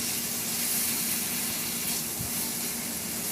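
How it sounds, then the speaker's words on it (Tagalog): A kilo of chicken pieces cut to serving size dropped into a hot pan for pansit, sizzling loudly and steadily with a hissy, close, continuous frying sound and no talk. "Ilagay ko na rin yung 1 kilong manok na hiniwa ko lang ng pa-serving cut."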